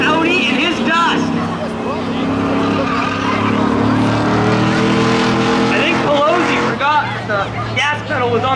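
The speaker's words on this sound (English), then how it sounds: "Green flag. Chevy SS takes off. Leaves the Audi in his dust." Street-legal spectator drag race at Oxford in July 2017, a Chevy SS launching off the line against an Audi A4, with loud, sustained engine roar and rising revs, under continuous announcer commentary and crowd noise.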